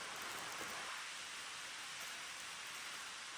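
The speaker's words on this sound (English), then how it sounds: "It's been raining all day yesterday, all day today." Steady rain falls outdoors, an even hiss of countless drops hitting surfaces, constant and moderately loud, with no voices.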